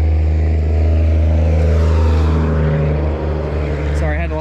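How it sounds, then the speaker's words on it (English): A truck passes on the road with a loud, deep engine drone and rising, fading rumble close by, with brief talk near the end. "Sorry, I had to let the truck pass"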